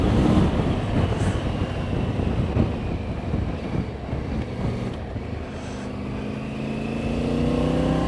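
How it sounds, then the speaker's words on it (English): A Triumph Tiger 900 Rally Pro Desert Edition motorcycle engine runs under throttle with a steady, loud drone and wind rush throughout, the pitch rising toward the end as the bike pulls harder. "Oh, that throttle's just addictive."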